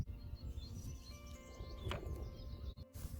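Birds sing in a dawn chorus at 6:15 am, with several faint chirps and calls overlapping above a soft low background hum, and no talking.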